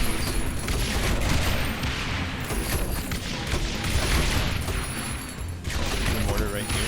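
Mortar fire in a video game battle, a dense, continuous rumble of explosions and booms across a flat field, loud and sustained with a brief lull near the end.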